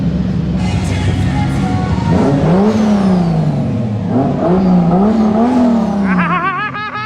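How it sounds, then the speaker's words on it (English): A turbocharged car running E85 doing a big burnout, with a loud sustained engine roar that rises and falls as the revs are worked, over continuous tire noise and screeching, close and dominant throughout. "I just did a big burnout and the AFRs were pretty solid."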